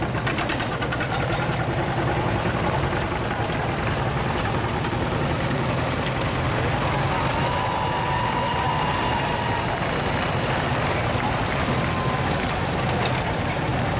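Two-cylinder tractor engines from a tractor club rumble steadily in a veterans day parade, a dense continuous outdoor drone with chugging low tones and a brief whine rising above the mix.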